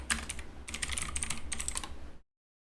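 Quick clattering keystrokes on a computer keyboard, close and fairly loud, in uneven bursts for about two seconds before stopping abruptly into silence.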